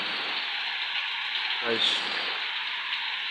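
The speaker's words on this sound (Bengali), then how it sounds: "অঝর বৃষ্টি হইতেছে" Heavy rain pours down in Meherpur as an even, dense hiss of drops on surfaces, steady from start to finish, with a brief voice partway through.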